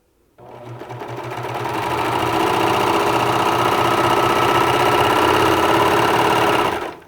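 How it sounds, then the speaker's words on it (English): A Baby Lock Victory serger starts up and runs continuously, a loud, close, rapid mechanical whirring hum that builds quickly and holds steady before stopping. "So let me run the machine a little bit."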